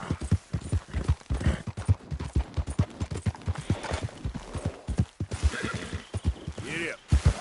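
A horse gallops with rapid, rhythmic clip-clopping hooves in Red Dead Redemption 2, close and steady, with a neigh breaking through near the end.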